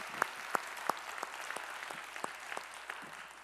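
A church congregation claps during a Sunday worship service, sharp claps in a steady rhythm, fairly distant and soft in a reverberant hall.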